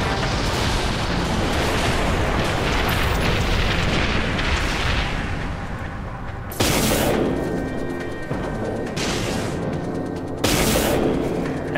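A ship explodes under missile fire in the space combat game Dreadnought, producing a dense, continuous roar of blasts and rumbling booms with sharp fresh bursts that hit loud and stay constant throughout.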